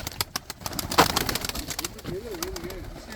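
Pigeons coo nearby, soft warbling calls rising and falling, mixed with wing flutters and scattered clicking sounds.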